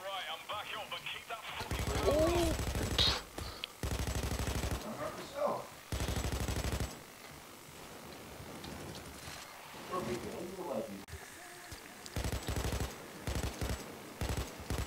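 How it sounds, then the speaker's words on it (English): LMG machine gun in the video game PayDay, bursts of rapid automatic fire in several loud bursts over a quiet background, with people talking faintly between them. "All I saw was just bullets firing"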